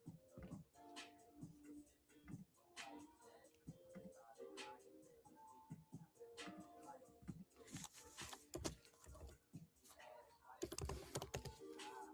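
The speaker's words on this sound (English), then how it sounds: "I'm just typing everyone's names in here." Names are typed on a computer keyboard in quick, uneven bursts of soft key clicks, with someone talking quietly over the typing throughout.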